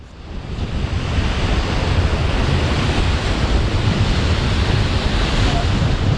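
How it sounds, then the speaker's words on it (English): Whitewater rapids on the New River in West Virginia roar as a loud, continuous broadband rush of churning water and wind buffeting close by, steady from start to finish. "These rapids are easily the most exciting of the day"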